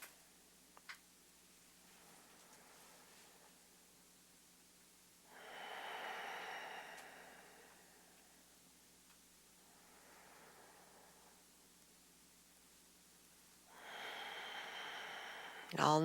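Slow, deliberate breathing held during a yoga pose: soft, airy inhales and exhales spaced several seconds apart, faint and close, over a quiet room hum.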